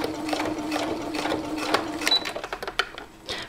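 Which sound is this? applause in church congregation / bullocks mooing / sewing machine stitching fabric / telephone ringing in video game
sewing machine stitching fabric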